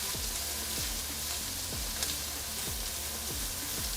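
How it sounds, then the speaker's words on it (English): Onions sizzling steadily in hot oil in a pan for fried rice, with a scraping stir every half second or so, close and continuous. "we're gonna stir these around and get the oil all over all of them, and we're gonna cook these until they're translucent"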